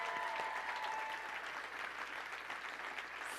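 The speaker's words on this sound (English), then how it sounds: "Give everybody a round of applause" At a speaking event, an audience claps steadily in a continuous, even roar of applause that holds at the same level throughout.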